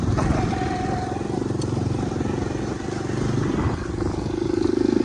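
A Bajaj Dominar 400 motorcycle with a 373 cc engine drones loudly and steadily at close range with a low throbbing rumble, while traffic and voices mix in behind it.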